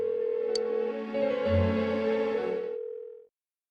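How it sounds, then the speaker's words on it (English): Unanswered phone ringing in the video game Persona 4 Golden, a steady electronic ring tone that holds for about three seconds under game music, then cuts off abruptly. "Why won't she pick up the phone?"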